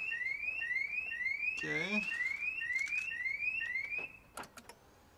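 A Nissan Leaf car alarm, set off by a dead 12V battery, chirps in a steady repeating series of rising electronic tones that stops abruptly, followed by a few clicks, with a brief spoken word partway through.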